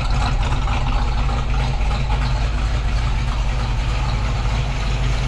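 A 1960 Chevrolet Corvette engine idles with a steady, low rumble, even throughout, smooth and continuous with no knocks or ticks, close by.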